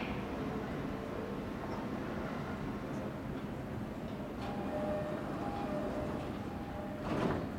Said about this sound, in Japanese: 1番線ドアが閉まります。